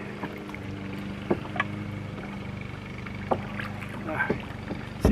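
A canoe drifting on open water among trees, with soft paddle splashes and gentle hull knocks under steady outdoor ambience and a low hum, a few sharper thumps standing out now and then.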